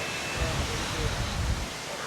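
Strong wind gusts across a beach with choppy sea, a dense broadband roar buffeting the microphone continuously with surges throughout, loud and close.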